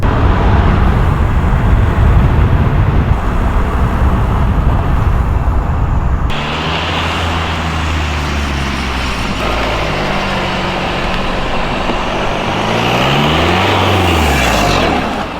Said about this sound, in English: let's make it onto this main road and let's hear some turbo noises